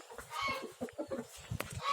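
Chickens being fed cluck and squawk in short, busy bursts close by, several birds overlapping in an irregular chatter.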